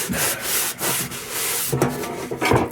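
An old wooden miner's lunchbox with surface rust is rubbed clean by hand, giving repeated close scrubbing strokes in an uneven rhythm, alone with no talk.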